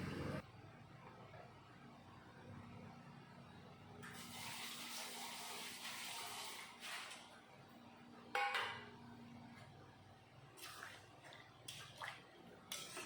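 Coconut milk poured into a pan of duck egg curry, a soft liquid wash followed by clinks and scraping as it is stirred, fairly faint and close with no voices.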